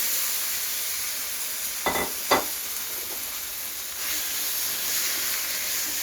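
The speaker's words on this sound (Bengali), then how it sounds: "এবার আমি পনিরগুলো এর মধ্যে দিয়ে দিলাম।" Paneer pieces dropped into a hot pan with a little ginger, setting off a steady loud sizzle and frying hiss, with two brief clatters as the pieces go in and no talking.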